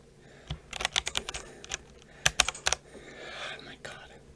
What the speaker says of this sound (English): I'm going to have the microphone pointed at the keyboard so that you can get a sense of what it sounds like.